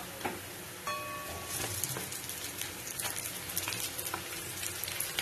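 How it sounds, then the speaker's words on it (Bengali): Washed chicken, about 300-400 grams, goes into browned onions frying in a pan for a Kolkata-style home chicken jhol; a steady soft sizzle and patter runs throughout at moderate level, with faint stirring clicks and no talking. "এবার আমি এখানে দিয়ে দেব ধুয়ে রাখা চিকেনটা।"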